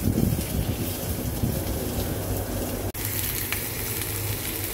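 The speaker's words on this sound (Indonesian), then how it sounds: "Goreng sampai keluar aroma harum." Onions sauté in hot oil in a wok, giving a loud, close, steady sizzle that runs unbroken apart from one brief dropout.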